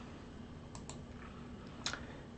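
A few quick computer mouse clicks, two close together and one more a moment later, faint over a steady background hiss.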